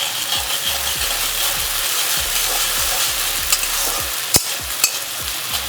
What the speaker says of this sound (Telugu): 1/2 టీ స్పూన్ వరకు సోయా సాస్ వేసుకొని వీటిని కూడా చక్కగా వేయించేసుకోండి